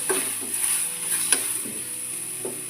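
Food frying in a small amount of oil in a pan, a steady sizzle with occasional stirring scrapes and clinks, close and continuous, no talking.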